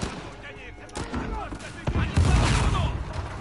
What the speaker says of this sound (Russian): Прям одни взрывы они идут.